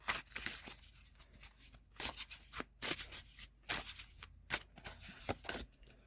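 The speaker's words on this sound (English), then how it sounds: "Let's get 2 more of these tarot cards" Tarot cards handled and shuffled at close range, crisp riffling bursts and soft slaps of card stock in an irregular rhythm, with no talking.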